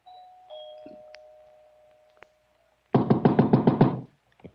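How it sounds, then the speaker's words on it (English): A doorbell chimes faintly inside, a thin ringing tone with a few soft clicks, followed by a burst of rapid knocking or buzzing ringing loudly. "punched at the doorbell, and heard it ring inside."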